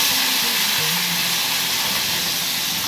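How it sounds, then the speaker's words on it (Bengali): Fish frying in a pan of oil reused from the day before, a steady close sizzle and hiss that runs unbroken throughout with no talking. "এই যে মাছটা ভেজে নিচ্ছি, কড়াইতে কালকে তেল ছিল তো ওই তেলেই মাছটা ভেজে নিলাম আজকে"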